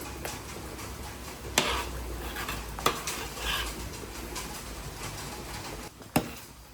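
A lazy dumpling mixture stirred in a pot: continuous scraping and soft sizzling, broken by a few sharp clicks of a utensil against the pan.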